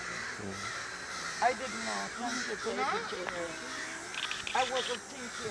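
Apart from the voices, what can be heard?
crows cawing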